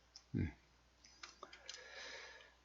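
Computer keyboard keys are pressed in a short burst of crisp, quiet clicks, heard up close during a spreadsheet shortcut demonstration, with a brief voice sound just before.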